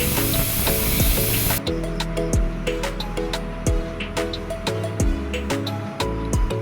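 Pre-fried prawns going into a pan of potol curry: a loud, broad hiss for the first moments, then a steady sizzle with repeated clinks and knocks of a utensil against the pan.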